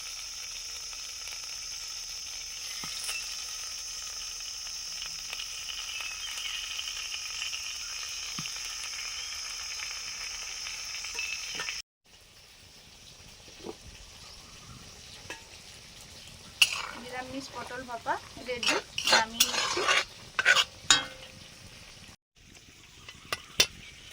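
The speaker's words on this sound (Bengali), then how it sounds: "কয়েকটা কই মাছ ভেজে নেবো" Koi fish fry in hot oil, first as a soft, steady hiss, then after a brief break as quieter sizzling with sharp spits and pops clustering near the end, close by and without talk.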